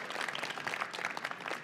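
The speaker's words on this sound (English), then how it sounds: "You deserve a round of applause." Short burst of quiet applause from attendees at a community center's annual meeting, a soft, even patter of many hands clapping at a distance.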